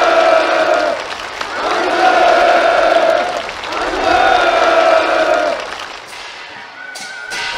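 Participants at a North Korean countryside housing ceremony for farm workers' new homes applaud loudly as a crowd, with swelling clapping mixed with sustained tonal sounds before it thins out.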